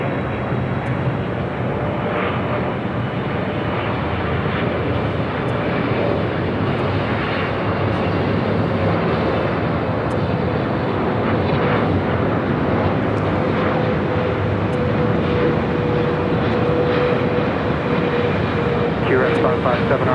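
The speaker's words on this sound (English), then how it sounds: "let's head to EVA Air Flight 12, 777 at 300 ER," An EVA Air Boeing 777-300ER arrives at Los Angeles International Airport, a steady broad jet roar holding loud and even throughout with a faint engine whine drifting on top and voices talking underneath.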